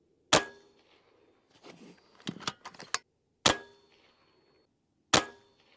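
A Karma Red Panda air rifle fires at a 100-yard target: three sharp, loud cracks spaced a few seconds apart, with a quick run of lighter mechanical clicks and clacks between the first two.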